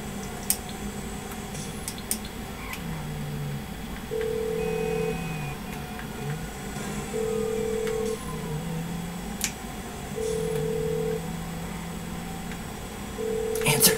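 A phone rings in a criminal roleplay game, repeating a tonal ring burst about every three seconds over a constant background drone with scattered clicks.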